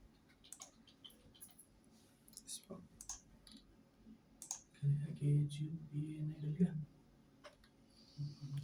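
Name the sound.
clicking and typing on a computer while searching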